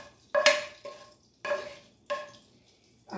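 A utensil scrapes and knocks in a frying pan as a pork chop is lifted out, four distinct clattering strokes spaced about half a second apart, with no talking.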